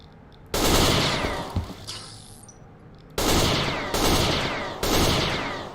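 Loud bursts of rapid gunfire in the video game Knights of Al-Aqsa Mosque: one long volley, then three shorter automatic bursts in quick succession, close and harsh.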